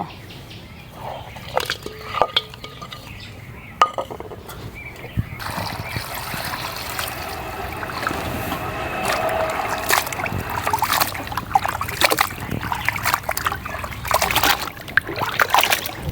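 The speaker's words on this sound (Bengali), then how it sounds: "এবার কলা আর মাংসগুলো সুন্দর করে ধুয়ে নেব।" Green bananas and pieces of beef being washed by hand in water, with splashing, sloshing and trickling that grows busier and louder partway through, close by and without talk.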